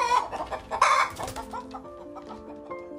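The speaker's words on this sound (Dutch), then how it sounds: "maar ik ben bezig met mijn kippen." Backyard chickens cluck repeatedly nearby, a flurry of loud, overlapping clucks at first that settles into softer, rhythmic calls.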